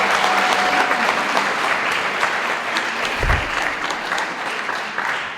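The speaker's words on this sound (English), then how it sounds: "Let's give them a round of applause" A crowd at an Indigenous student graduation ceremony applauds its presenters with continuous, lively clapping that holds steady and eases off gradually, with a brief low thump partway through.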